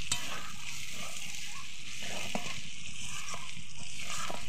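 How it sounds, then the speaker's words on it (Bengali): Chicken and potatoes fry in a pan with a steady broad sizzle, while a spoon stirs through them now and then, giving soft scraping knocks over the constant hiss. "আলুটা দিয়ে আবারও 3 মিনিট মতো কষে নেব।"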